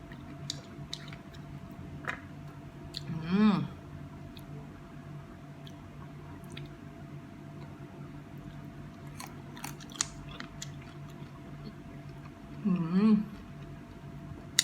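Sour unripe mango dipped in shrimp paste is bitten and chewed close up in two short crunchy bursts, separated by a long quiet gap.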